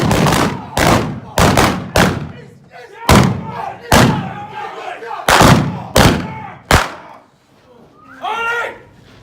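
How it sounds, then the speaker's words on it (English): Sharp gunshots ring out during a staged Old West gunfight reenactment in Tombstone, a rapid run of loud cracks in uneven bursts with short gaps, among shouted dialogue and crowd noise. "We're going to go see the gunfight."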